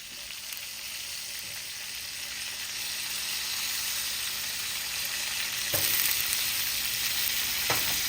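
A cauliflower steak sizzles steadily in a hot pan, a continuous bright hiss that stays fairly loud throughout, with a couple of brief louder crackles near the end and no one speaking.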